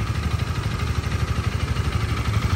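A 2018 Honda Rebel 300 motorcycle idles close by, its engine giving a steady, even low thrum of rapid pulses with no revving and no voices.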